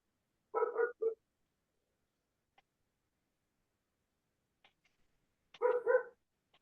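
A dog gives two short bursts of barking, a brief pair of yaps, then a longer pause before another cluster of barks, fairly close against near silence.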